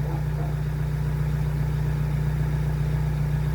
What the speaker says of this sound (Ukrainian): Так що отако працює двигун, дивіться на оберти